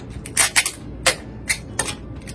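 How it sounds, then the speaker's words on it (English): A piece of tape is applied to a folded coffee filter face mask, producing several sharp, close crackling rips and taps in short irregular bursts with brief pauses between them. "We're going to apply a piece of tape."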